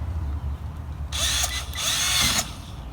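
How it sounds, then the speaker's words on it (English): A power drill whirs in two bursts lasting about a second each, close and loud, drilling a hole for a self-watering garden, with a brief pause between them over a low background hum. "drill right here."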